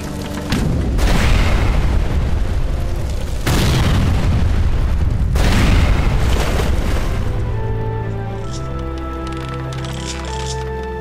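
Heavy booming cannon blasts and explosion cracks in the video game Age of Empires III roll one after another, loud and dense, then give way to a quieter stretch with tonal music-like sounds.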